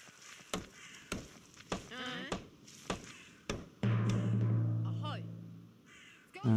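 Sheep bleating in the Viking strategy video game Northgard, several wavering bleats heard close and clear among crow caws and sharp clicks of game effects, with someone talking over parts of it.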